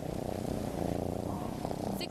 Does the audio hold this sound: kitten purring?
yes